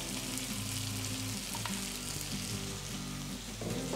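Cooked rice tipped into a pan of frying vegetables for navratan pulao, a soft continuous sizzle with faint scraping and stirring, fairly quiet and without talk.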